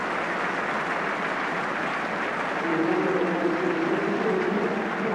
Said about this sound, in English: Getting good applause